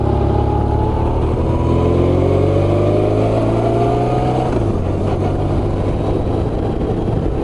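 A BMW R1100RT touring motorcycle is ridden on the road, its engine loud and close throughout. The engine note climbs steadily as the bike accelerates, drops at a gear change, then holds steady over constant wind rush.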